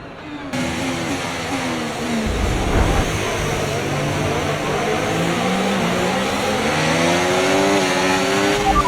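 F1 race cars roar off the line at a race start in a racing video game, with a dense, continuous blend of loud engines revving and shifting pitch as the pack jostles toward a crowded corner.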